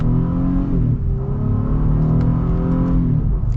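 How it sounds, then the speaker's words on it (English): A 2020 or 2022 Acura MDX SUV accelerates hard in sport mode, its engine roaring loud and steady from inside the cabin, pitch climbing then dropping briefly at a gear shift before rising again. "and let's see how it accelerates."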